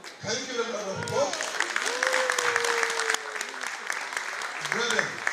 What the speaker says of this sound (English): can you give a lot of applause?